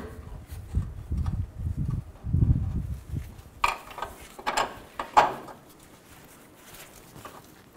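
A wrench clicks and ratchets while bolts and nuts go back onto a Chevy Tahoe's idler arm during a timing cover job, with a few short bursts of metallic rattling and clunks up close and no talk.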